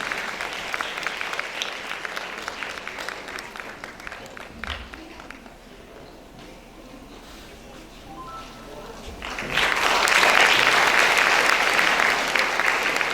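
A church welcome gathering breaks into applause, clapping that dips midway then swells loud and dense near the end, with a voice speaking over parts of it.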